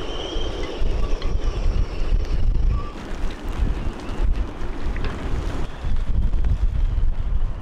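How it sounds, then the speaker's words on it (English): Strong wind buffets the microphone in heavy gusts, a loud rumbling roar that surges and eases throughout with no voices. "it's very wet and very windy"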